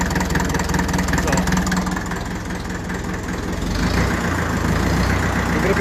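A 1954 Ferguson TEF 20 diesel tractor engine idles steadily, close and loud, with a continuous low rumble and a slight rise in revs toward the end.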